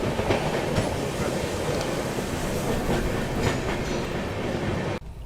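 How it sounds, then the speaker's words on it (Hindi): A local train rattles past close by in India with a steady rush and rhythmic clickety-clack of wheels on the rails, cutting off abruptly near the end. "लोकल ट्रेन का ट्रैफिक लगातार चल ही रहा है।"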